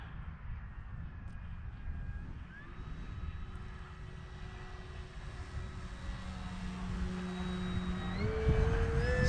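An E-flite Carbon-Z Cessna 150T RC airplane flies overhead with a steady electric motor whine at a distance, rising in pitch and growing louder toward the end, with no talking.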